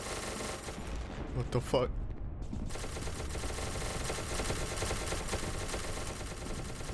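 Gunfire in the SCP: Secret Laboratory video game crackles as a dense, continuous burst of shots that runs the whole length, with a brief lull near the start where a voice briefly speaks over it.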